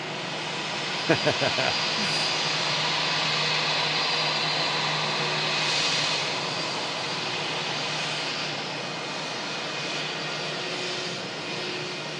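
Boeing Dreamliner airliner taking off for Larnaca, a steady distant jet engine roar that swells and fades gradually, heard from a spotting position with a few brief knocks near the start.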